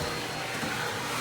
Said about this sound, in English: I like to use that vacuum cleaner